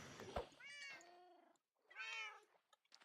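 A Minecraft cat meows twice, with clear tonal calls a beat apart and a short chirp at the end, close and alone with no talk over it.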